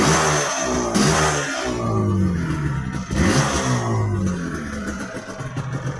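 Two-stroke engine of a Guernsey LC motorcycle revving up and falling back, with two sharp throttle blips and a busy mid-pitched idle running between them, close and loud.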